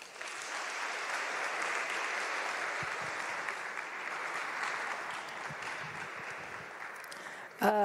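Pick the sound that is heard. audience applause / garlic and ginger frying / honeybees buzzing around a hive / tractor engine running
audience applause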